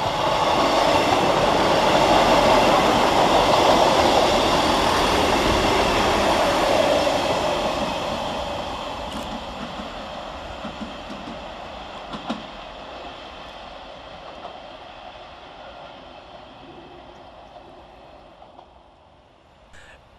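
Two East Midlands Railway Class 158 diesel units passing through Woodsmoor station, a loud rumbling roar with rail clatter that gradually fades into the distance.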